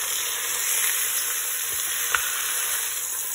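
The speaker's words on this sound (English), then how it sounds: "all we wanna do is really get it brown on one side." Chicken pieces sizzle steadily as they brown in the hot inner pot of an Instant Pot, a constant close frying hiss with a couple of faint clicks, no talking.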